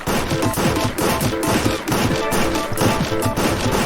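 Rapid gunfire from a VR shooting game, dense overlapping bursts of shots with thuds, loud and continuous with no pauses.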